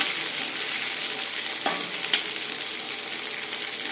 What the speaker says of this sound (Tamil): இப்போ நம்ம வெங்காயத்தை போடப்படும் இது சிம்பிள் தான் எல்லாருக்குமே தெரிஞ்சிருக்கும்